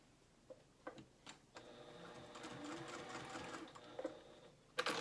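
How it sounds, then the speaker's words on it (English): A home sewing machine runs a steady basting stitch along a dress seam at a quarter-inch allowance for about three seconds, with a few clicks and handling sounds before and after, close by and fairly quiet. "baste it at a 1/4 inch seam allowance. Do not back stitch."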